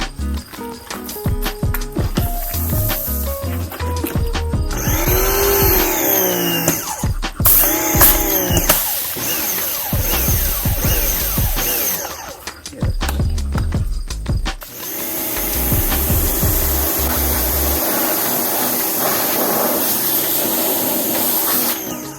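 A Bepower 2000 lbs electric pressure washer starts up and runs while spraying a broken lawnmower, giving a loud mechanical whine and buzz that surges and pulses, drops out briefly, then returns to a steady roar.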